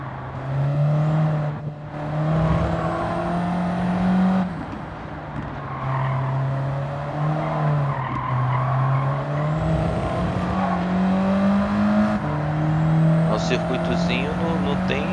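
Renault Clio hot hatch race car in Gran Turismo 7 on PS5, its engine droning steadily with pitch rising and dropping through gear shifts around a tight circuit, tires briefly squealing near the end, with someone talking over it throughout.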